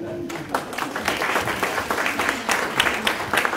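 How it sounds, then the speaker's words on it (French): An audience at a lecture on pseudo-medicine applauds a guest named Soham, steady close clapping from a modest crowd that builds after a brief voice and continues to the end. "je voulais demander des applaudissements pour Soham"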